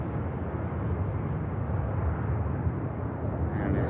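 An EasyJet airliner taking off at Manchester Airport, a steady, dense engine roar with a deep rumble that continues without a break, heard alone with no talk.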